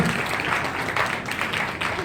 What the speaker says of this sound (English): Please join me in giving a round of applause to the people behind D5 Studio.